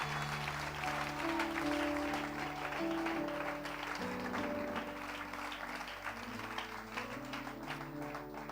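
A church congregation claps and cheers in a continuous, fairly distant wash of applause over sustained organ or keyboard chords, with no clear speech.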